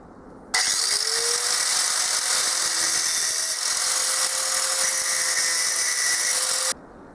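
An angle grinder working on a lathe compound slide, steady loud high-pitched whine starting abruptly and holding for about six seconds before cutting off, with no talking.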